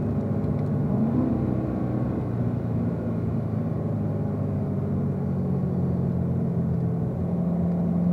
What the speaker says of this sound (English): As we start to brake for turn one, we're all going to do a downshift.